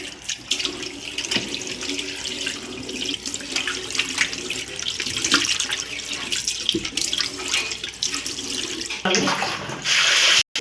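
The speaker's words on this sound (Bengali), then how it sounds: "গ্যাস মোছার পরে এবার আমি বেসিনটা ধুয়ে নিই" A household tap runs steadily into a sink basin being washed, a continuous close splashing stream that ends abruptly, with no voices.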